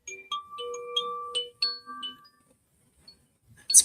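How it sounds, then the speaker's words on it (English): Koshi chimes ring in a quiet room, with a few clear, sustained metallic tones overlapping and then fading into silence, close and fairly soft. "Koshi chimes."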